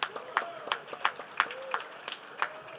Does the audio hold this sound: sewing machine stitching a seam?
no